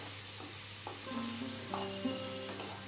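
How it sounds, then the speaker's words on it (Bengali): Small diced potatoes fry in a pan with a soft, steady sizzle while a spatula stirs them in a few short scraping strokes, close by, with no talk. "এখন এটার মধ্যে আগের থেকে কেটে রাখা ছোটো ছোটো সাইজের আলু দিয়ে দিলাম, আর আলুটা দিয়ে অল্প একটু ভালো করে ভেজে নেব।"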